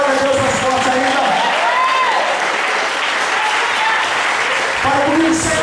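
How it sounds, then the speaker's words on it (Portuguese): A church congregation claps together in loud, sustained applause, dense and continuous throughout, with voices and shouts rising within the crowd. "dê uma aplauso ao Senhor e dê glória a Deus mais forte ainda"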